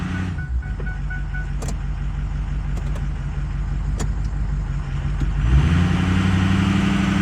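A Ford 6.0 diesel truck engine floored in four-wheel-drive low, a steady loud drone that holds for several seconds then swells louder near the end, close and alone without talk.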